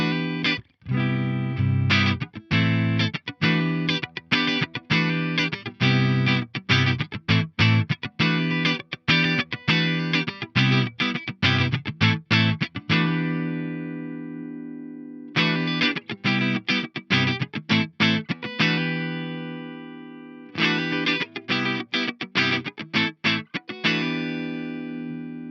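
Electric guitar played through channel 2 of a Carvin Quad-X tube preamp on the clean setting, with its low-pass cloaking control turned fully off: bright, ringing chords and picked notes in bursts, with two short pauses and sustained decays, heard alone without talk.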